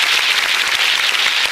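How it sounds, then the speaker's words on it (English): Applause for a guest on a radio interview show, a steady wash of clapping from many hands, loud and continuous for a short burst. "We've got a little bit of applause for you."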